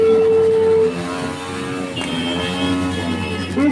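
Motorcycles moving in a rally procession for a birthday celebration, engines droning and revving nearby in a continuous rumble throughout the short stretch.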